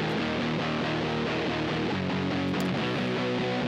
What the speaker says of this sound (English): The main guitar part sounds like this.